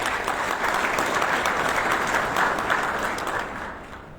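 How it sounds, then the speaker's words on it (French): A conference audience at a digital payments event applauds as the CEO of MS Solutions is welcomed on stage: dense, sustained clapping from a large crowd, loud and steady before tapering off near the end, with no one talking. "sous vos applaudissements"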